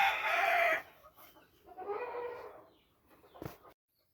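Game chickens cluck and crow in a few separate bursts, each a minute apart, fairly close and fading to silence at the end, with no one speaking.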